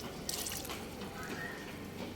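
Water mixed with tea powder is poured onto the soil of a potted rose plant, making a soft continuous trickle and splash, close and fairly quiet.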